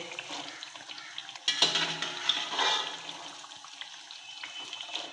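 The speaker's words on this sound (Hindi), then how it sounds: "अब ये मैंने चने उबाल के रखे हुए थे, सादा नमक डाल के ये इसमें डाल देंगे।" Boiled chickpeas, salted, are tipped into a pot of fried masala gravy for white chana curry, giving a sudden wet splashing clatter followed by sizzling and stirring that continues steadily at close range.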